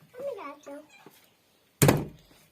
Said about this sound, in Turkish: Kapat kapıyı.